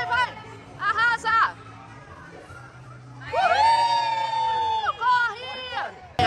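Young team supporters cheering and shouting in excited bursts, high-pitched voices rising in short waves with chatter between them.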